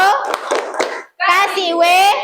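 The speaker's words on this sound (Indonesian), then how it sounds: "Tepuk apresiasi." Children in a classroom doing the appreciation clap (tepuk apresiasi), a burst of rhythmic hand claps, then a short pause and a chanted group shout from young voices.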